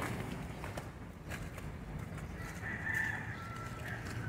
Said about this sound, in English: There's the rooster.